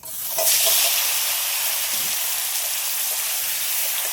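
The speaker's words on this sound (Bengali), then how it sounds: "এবার সব মশলা মাখিয়ে রাখা পটলটা দিয়ে দিচ্ছি" Pointed gourd coated in spices drops into hot oil, and a loud sizzle flares up quickly, then holds as a steady close hiss with faint bubbling underneath.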